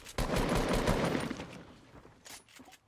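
Rapid burst of gunfire from a video game battle, likely shotgun blasts from a pump shotgun, loud and dense at first then thinning into a few scattered shots near the end.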